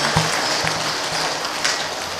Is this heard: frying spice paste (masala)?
no